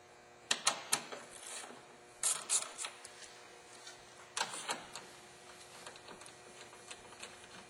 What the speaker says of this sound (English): we have two 10mm bolts holding in the grill. So let's go ahead and remove those.